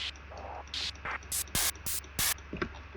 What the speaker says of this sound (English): There are 2 noise rises here.